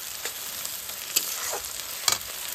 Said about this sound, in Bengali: আর এখন দিয়ে দেবো এতে সেই আদা রসুনের পেস্ট, দিয়ে এটাকে ভালো করে নাড়তে চাড়তে হবে যাতে কাঁচা গন্ধটা বেরিয়ে যায়।